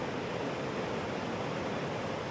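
Ocean waves wash onto the sandy beach at Ocean Shores on the Washington coast, a steady, even rush of surf with no other sounds.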